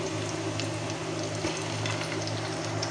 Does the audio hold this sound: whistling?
no